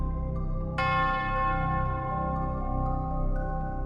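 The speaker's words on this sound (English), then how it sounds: "you hear a bell toll off in the distance," A single bell strikes and rings out with a long, fading resonant tone over a low background drone.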